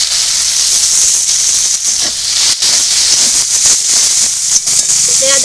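Chopped onion hisses loudly as it fries in hot oil with a dried red chilli and whole cumin. The steady, close, steam-like sizzle has a few soft knocks, and a faint voice can be heard.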